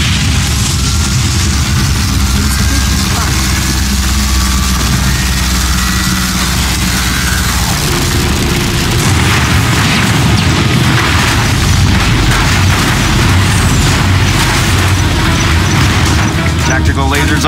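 A particle cannon blast in Command and Conquer Generals Evolution: loud, deep booming rumble and explosive crackle sustained over a heavy engine-like drone, with game voice announcements heard through the battle noise.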